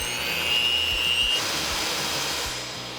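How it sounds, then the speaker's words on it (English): An electric hand mixer whips egg whites with cream of tartar, a steady close whirring drone with a faint high whine that shifts partway through, alone with no voices. "we're going to start whipping our egg whites"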